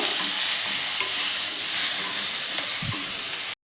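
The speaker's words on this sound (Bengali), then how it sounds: "দিয়ে ভালো করে আলুগুলো একবার ভাজবো" Steady crackling sizzle of potatoes frying in hot mustard oil with turmeric, with occasional scraping stirs, loud and close throughout.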